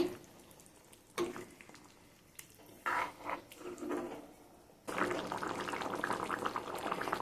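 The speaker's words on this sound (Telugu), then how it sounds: "ఇట్లా ఉడికేటప్పుడు మూత పెట్టుకొని మంటను మీడియం సైజులో పెట్టుకోవాలండి" Chicken curry simmers in a covered pot over a medium flame with soft bubbling and hissing that comes in bursts, then grows louder and continuous midway.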